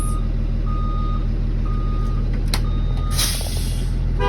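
A school bus sounds its reversing alarm, a series of evenly spaced loud beeps over the steady drone of the idling diesel engine, with a short hiss near the end.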